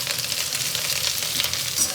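Curry leaves, mustard seeds and onion sizzling in hot oil, a steady dense crackle and hiss with small pops, close and continuous.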